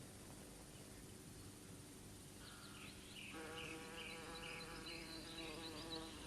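A bumblebee buzzes faintly, the drone swelling louder and richer partway through, with no voices present.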